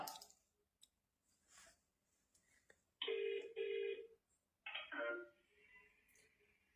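Telephone tones sound after a number is dialed: a few quiet clicks and key presses, then two bright, fairly loud electronic ringing bursts separated by a short pause, over faint background noise.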